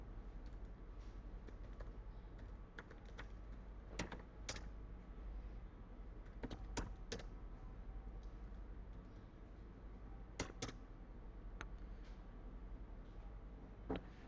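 Steady typing on a computer keyboard while entering sample data into an Excel worksheet, with a continuous run of light key clicks and a few sharper, louder keystrokes, close and alone.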